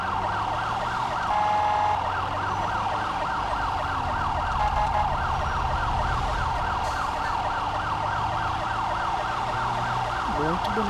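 Police car siren in the video game GTA V wails in a fast, continuous oscillating cycle, loud and close over a low engine rumble, with no speech over it.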